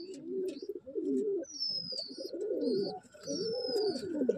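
Pigeons cooing close by in soft, repeated throaty phrases, with a few higher chirps and whistles from other birds scattered over the top.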